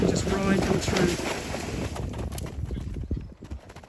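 A horse is ridden through water during cross-country schooling, its hooves splashing and thudding in an uneven rhythm close by, with wind buffeting the microphone and voices in the background.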